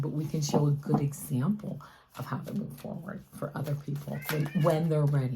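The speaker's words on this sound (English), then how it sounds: "And that's my cat" A cat that has just woken from a nap gives a few drawn-out meows, partly under continuous nearby talking.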